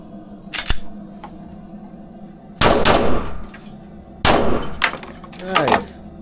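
Gunshots ring out at an indoor shooting range, several sharp, loud cracks with echoing tails, spaced irregularly among fainter distant shots and brief background talk.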